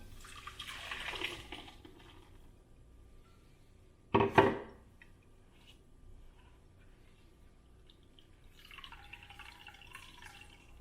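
Pennywort leaf juice drips and splashes through a strainer cloth, faint and close, with one short, louder wet burst midway and soft trickling around it.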